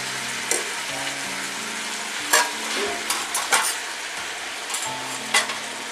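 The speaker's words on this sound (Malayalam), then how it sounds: "ഒന്ന് ഇളക്കി കൊടുക്കുക ചെറുതായിട്ട്." Prawn peera stirred in a traditional clay pot sizzles steadily while a spoon scrapes and knocks against the pot in several distinct strokes, with no one speaking.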